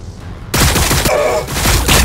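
Gunfire in the Warhammer 40,000: Battlesector video game on a landing pad battlefield: after a quiet moment, loud, dense bursts of rapid shots and booming impacts crash in and keep going.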